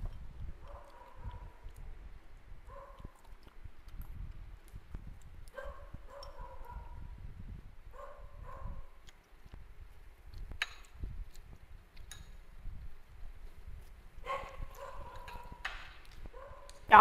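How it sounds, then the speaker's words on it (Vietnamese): A dog at a Vietnamese home barks repeatedly in short, mid-pitched bursts, with yips scattered across the clip. The barking comes in separated clusters at moderate distance and builds to a denser flurry near the end. "Chó nó sủa quá trời lắm mà."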